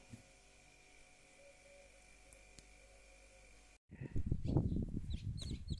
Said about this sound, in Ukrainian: Так, лупляться курчатка. Вже є троє.